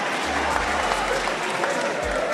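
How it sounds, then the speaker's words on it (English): A business-forum audience applauds: a dense, even wash of clapping that holds steady at a fairly loud level for the whole short stretch. "A round of applause for him, please."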